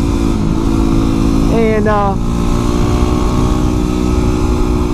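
Honda CB1000R motorcycle carrying the 2007 CBR1000RR engine, riding with a steady loud drone and a brief rising rev near the middle, under a rider's voice.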